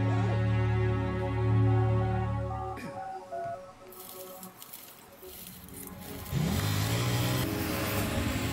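A Kove ADV 800 motorcycle with a parallel-twin engine runs with a steady low drone, then revs with a rising pitch in the second half, all mixed with other busy background sounds.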